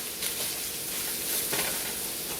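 Taco pie filling stirred in a frying pan, a continuous close sizzle with gentle scraping from the spoon and no voices.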